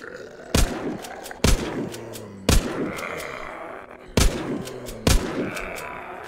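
Five loud, sharp gunshots fire at irregular intervals of about a second in the zombie-survival shooter The Walking Zombie 2, each a crisp blast with a short decaying tail over a low steady game background.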